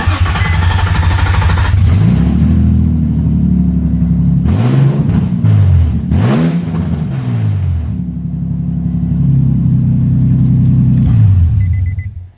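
A Nissan VQ35DE V6 with open headers idles loudly and rumbles, then revs up sharply several times in a row before settling back to a rough, throaty idle, close by.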